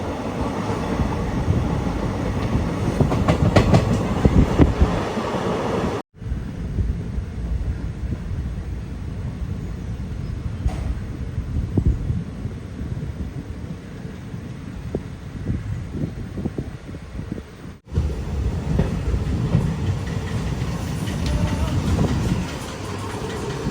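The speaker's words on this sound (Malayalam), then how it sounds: "അങ്ങനെ ബോഡിയിലേക്ക് ഇതാ നമ്മുടെ ട്രെയിൻ എത്തിക്കൊണ്ടിരിക്കുകയാണ്." A train on the Madurai–Bodinayakkanur line rolls into Bodinayakkanur station, a continuous loud rumble with rhythmic wheel clatter and rattling carriages heard from on board, briefly cut twice, with no speech.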